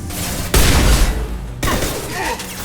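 Heavy automatic gunfire erupts in Mass Effect 2 on Insanity difficulty, a dense loud burst of rapid shots and booms, then a second sustained volley after a brief lull, with combat voices calling out underneath.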